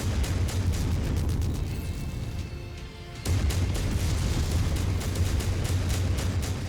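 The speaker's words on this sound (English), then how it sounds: "And we get more artillery on the field there." Artillery explodes across a MechWarrior 5: Mercenaries battlefield, with dense, loud booming rumbles that keep rolling and briefly drop away before resuming.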